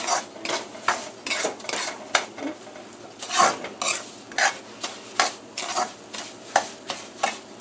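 A spoon repeatedly scrapes and stirs cream of wheat in a pot over medium heat on the stove, giving rhythmic, close, gritty strokes about twice a second, with a faint sizzle beneath and no talk.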